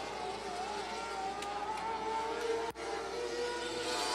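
Micro sprint race cars lap Jacksonville Speedway, their engines blending into a continuous buzzing roar with a rising whine, heard from trackside amid crowd noise.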